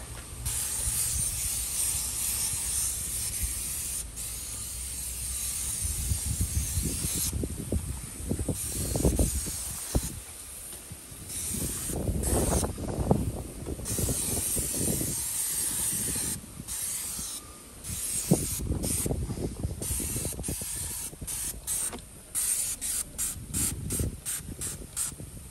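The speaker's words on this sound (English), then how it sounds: "I'm just gonna go and spray some of this Dawn, just soap" Dawn dish soap sprayed onto a wagon's greasy, dirty surfaces on a windy day, a long series of hissing spray bursts of varying length, close and fairly loud, with pauses between.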